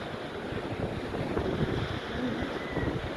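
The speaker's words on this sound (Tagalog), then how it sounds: "Maalon at saka mahangin." Strong wind and rough surf on a Bermuda beach at Admiralty Park, a steady broadband roar of gusts buffeting the microphone and waves washing in continuously, loud and close with no break.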